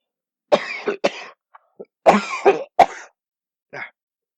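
Several harsh coughs in quick bursts from a lingering cold, a pair, then a cluster of three, followed by a lone softer cough after a pause; close and fairly loud.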